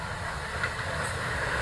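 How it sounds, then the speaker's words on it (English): Heritage train on the Holt to Cromer line of the old M&GNJ railway heading toward Weybourne, a steady low rumble of wheels and running gear with a faint hiss, continuous and fairly close. "as the train makes its way to Weybourne"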